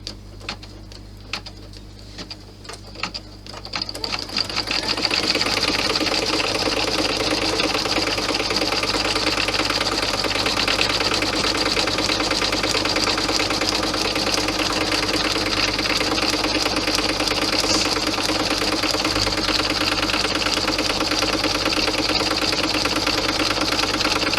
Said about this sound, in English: water soluble stabilizer over the top of the minky, and then I'm just going to watch it just to make sure it sews down okay.